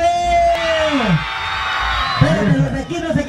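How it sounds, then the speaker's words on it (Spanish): Loud, massed crowd at a Bikini Open contest shouting and whooping together, one sustained roar that dips briefly and then rises again in scattered yells. "¡Un grito de este lado!"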